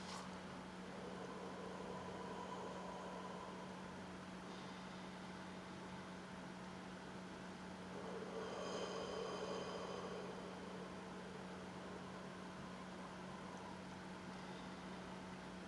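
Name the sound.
microwave oven running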